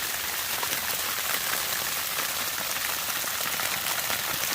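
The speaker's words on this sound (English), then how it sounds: "now we're looking at just like pure freezing rain or sleet" Freezing rain or sleet falls steadily on a tent on an Appalachian Trail morning in April, a dense, even hiss and patter that holds at the same level throughout with no voices.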